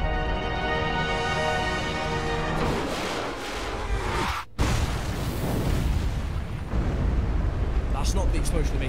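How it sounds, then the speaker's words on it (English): A huge explosion tears through a Resident Evil 5 boss fight against Wesker: a loud, sustained roaring blast that cuts out for an instant midway, then keeps rumbling with heavy debris noise to the end. "That's not the explosion they made earlier. That's like a little micro nuke."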